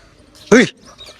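A single short dog whimper or yelp, close by and fairly loud, rising briefly out of a quiet background.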